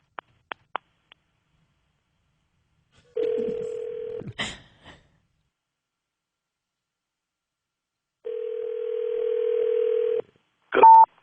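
During a radio morning-show prank phone call, a few quick dialing clicks are followed by two long, steady ringing tones on the line separated by silence, then a brief final tone, with no voices.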